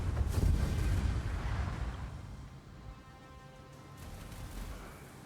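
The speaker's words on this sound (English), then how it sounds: "With torpedoes hitting the dead hulk of that sinking ship" Torpedoes strike the dead hulk of a sinking ship in World of Warships, a deep rumbling boom that swells early and slowly fades into a low churning roar, with a faint second surge near the end.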